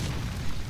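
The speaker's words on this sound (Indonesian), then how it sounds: "Tuh cuman meledak gitu doang" A short, heavy blast goes off from the Spiky Bomb skill of the Acidium Rifle in the Roblox game Blox Fruits, a loud low boom with a rumbling burst lasting under a second.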